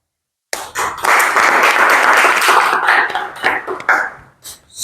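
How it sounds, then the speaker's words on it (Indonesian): A group gives a round of applause after a presentation, with loud, dense clapping that starts abruptly, holds steady, then thins into scattered claps before a final burst. "Kita memberikan aplaus untuk kelompok 1."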